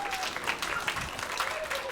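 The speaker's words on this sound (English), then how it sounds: "Can we give Miss Mary a big round of applause?" A children's audience at a story-time event claps for the woman handing out prizes, a brief, moderately quiet burst of scattered applause with faint voices.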